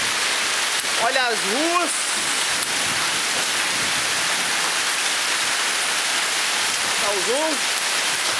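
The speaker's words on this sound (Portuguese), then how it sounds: "Tá caindo muita pedra." A hailstorm in Japan falls heavily outdoors as a dense, loud, steady hiss of stones striking surfaces, with brief voices speaking over it near the start and end.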